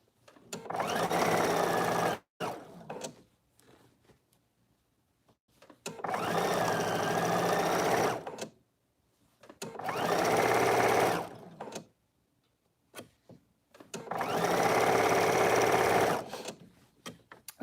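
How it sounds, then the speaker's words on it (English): A home sewing machine stitches a quarter-inch turned-up hem on a cotton shift dress in four steady, close motor bursts of a few seconds each, with quiet pauses between them. "So I'm flipping it up 1/4 of an inch"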